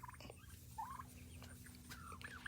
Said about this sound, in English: Look at those turkeys.